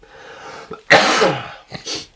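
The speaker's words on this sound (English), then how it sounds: "don't have another coughing fit" A person coughs in a short burst: a faint throat sound, then one loud harsh cough followed by a second softer cough, close to the listener, with no talking.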